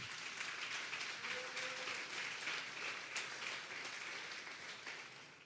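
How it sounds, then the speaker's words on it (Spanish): A congregation at a Sunday church service gives a sustained round of applause, a dense, steady roar of clapping from a large crowd heard somewhat distantly for over five seconds. "Denle un fuerte pues aplauso al Señor."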